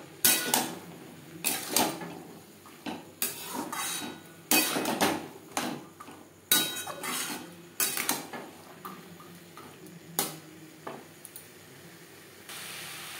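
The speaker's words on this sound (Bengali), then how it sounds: "মশলার সাথে মটর বেশ ভালো করে মিক্স করে দেব।" A spoon stirs boiled peas with spices in a pan for vegetarian ghugni, giving repeated metallic scrapes and clinks in an irregular rhythm, close and clear with no talk.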